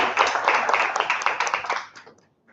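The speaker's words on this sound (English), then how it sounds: "A warm round of applause for Malcolm." An audience claps for a guest, the principal of a welding institute, being welcomed at an energy event; brisk, fairly close clapping that stops abruptly after about two seconds.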